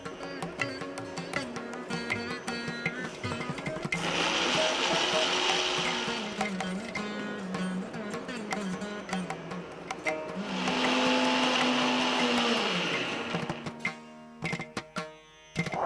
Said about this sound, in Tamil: இப்போ ரெண்டையுமே பொடி பண்ணி எடுத்துருவீங்க.